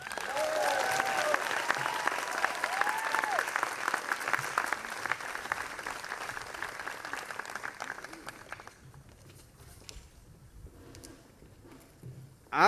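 Large audience applauding at a cultural evening event, a dense roar of clapping with some cheering that holds steady for about eight seconds, then thins out and fades toward scattered claps.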